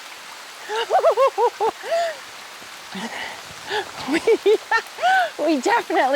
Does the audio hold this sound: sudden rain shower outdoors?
yes